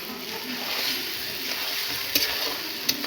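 Boiled eggs dropped into a pan of oil-rich spice masala give a steady, close, soft sizzle with a couple of brief sharp clicks from a utensil near the end.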